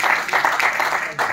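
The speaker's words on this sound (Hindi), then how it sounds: "बहुत तालियां बननी चाहिए भाई" Audience applause at a Hindi poetry recital (kavi sammelan) in a hall, a steady dense wash of clapping lasting throughout, fairly close and full, with no speech over it.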